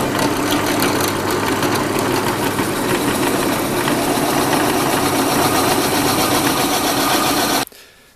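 A metal lathe drilling a hole in a pot with a bit held in the tailstock chuck, giving a loud, steady mechanical whir with a rasping grind that runs continuously and then stops sharply near the end.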